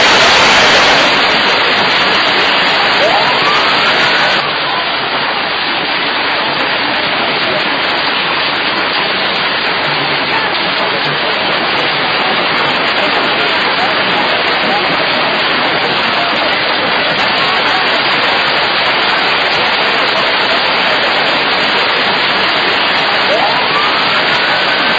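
Heavy rain with hail pounds down during a sudden half-hour storm at a festival in Yauyos, Jauja province, Peru: a dense, steady roar of close, loud precipitation with no pauses throughout.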